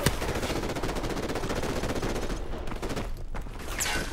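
Sustained machine gun fire in Call of Duty 4: Modern Warfare, rapid dense bursts of automatic shots from several guns, loud and close, briefly thinning near the end before resuming.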